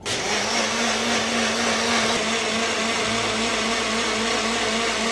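An electric blender whirs steadily and loudly as it blends homemade almond milkshake in a jar, a continuous motor drone with no talking.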